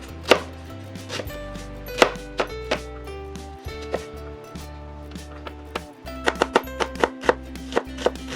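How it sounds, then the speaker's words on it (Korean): An onion is finely chopped with a knife on a cutting board, sharp close knocks, spaced at first and then quickening into a rapid burst near the end. "그 다음에 양파는 잘게 다져주시면 됩니다."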